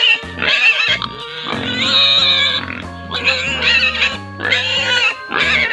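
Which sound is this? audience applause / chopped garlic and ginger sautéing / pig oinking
pig oinking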